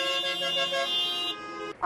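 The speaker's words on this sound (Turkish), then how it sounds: "Uzun kuyruklar, bitmeyen korna sesleri," Steady car horns honking in congested traffic near roadworks in Ankara, a sustained layered blare of several horns that drops away near the end.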